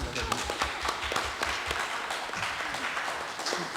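Members of a municipal council session applaud, a moderate patter of clapping hands that keeps up steadily, with some voices mixed underneath.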